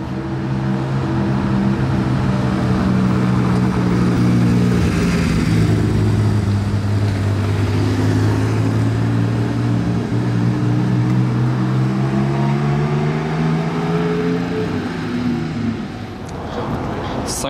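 A Porsche sports car arrives on a Paris street, its engine drone steady and fairly loud with a rising and falling rev pattern, heard alongside street ambience and people talking.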